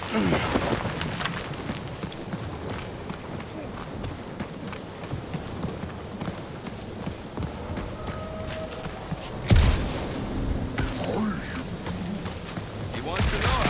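Steady rain hisses across a stormy scene in the PS5 video game Marvel's Guardians of the Galaxy, with a sudden heavy thud partway through and dense ambient rumble underneath.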